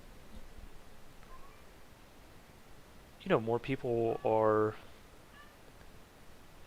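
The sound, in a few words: pet cat meowing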